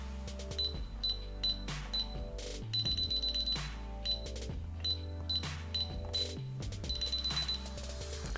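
A DSC Power Series alarm keypad gives a string of short, sharp electronic beeps as a code is keyed in, single presses and quick bursts in an uneven rhythm, heard close and alone.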